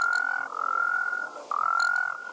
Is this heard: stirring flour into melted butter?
no